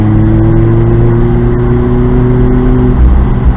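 A Mazda Miata fitted with a newly installed exhaust accelerates hard on a race track, its engine droning loudly and steadily with a sustained rising hum close by.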